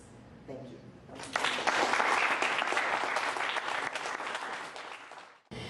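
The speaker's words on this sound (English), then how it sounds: "I would like for you all to give another round of applause to the" Audience applause at a veterans' storytelling event swells quickly into loud, dense clapping for several seconds, then fades out before a voice resumes.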